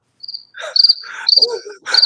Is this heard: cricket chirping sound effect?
yes